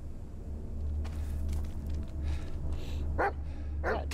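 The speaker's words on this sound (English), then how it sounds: "What are you barking at?" A dog barks in the horror video game Blair Witch, two sharp close barks near the end over a low ambient game rumble and scattered rustling.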